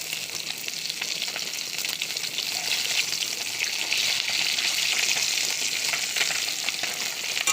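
Continuous, close crackling and hissing of Chandana hilsa fish frying in hot oil, steady and fairly loud from start to finish.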